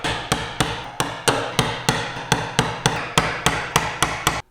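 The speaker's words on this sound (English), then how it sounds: "now let's just chisel down these walls" Chiselling down the walls of a wooden halving joint, heard as a steady run of about fourteen crisp, evenly spaced mallet blows on the chisel, close and loud with no talk.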